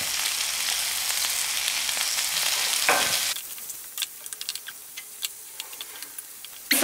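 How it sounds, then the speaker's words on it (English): Onions frying in a pan with salt and turmeric, first a loud steady sizzle, then a quieter crackle with scattered ticks and taps from stirring. "fry these onions until they are caramelized"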